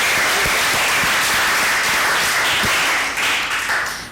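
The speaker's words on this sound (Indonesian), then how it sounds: "Tepuk tangan untuk Nadine" Students in a school class clap for a classmate, a loud, close burst of scattered applause with a few sharp individual claps that tapers off after about four seconds.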